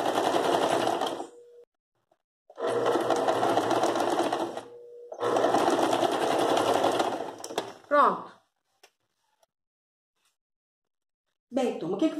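A sewing machine stitching a floral rug runs in three long bursts of about two seconds each, with a brief reverse backstitch pass. Short pauses separate the bursts, and a few faint handling clicks and a brief voice follow.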